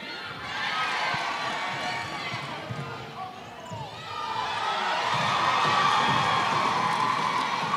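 Spectators at a netball World Cup qualifier between the USA and Barbados cheer and shout. The sound swells higher in the second half, with commentators talking over the noise.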